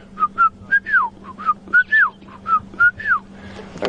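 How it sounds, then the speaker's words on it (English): A Shelley's francolin in the bush gives a rhythmic series of clear whistled phrases, with short rising notes and longer slurred ones repeating in a regular pattern over a faint low hum. "That's a Shelley's Franklin, one of my favorite calls in the bush."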